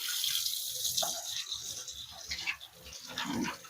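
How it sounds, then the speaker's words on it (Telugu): Tap water runs steadily onto raw chicken in a strainer as it is washed with salt and turmeric, a continuous close splashing hiss with a few brief knocks. "ఇది కొంచెం ఉప్పు, పసుపు వేసి కడుగుతున్నా"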